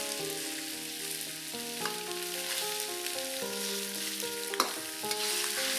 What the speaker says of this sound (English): Fry the beef till it changes color.